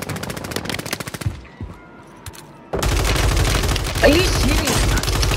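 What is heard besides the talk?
gunfire in Call of Duty Rebirth Island video game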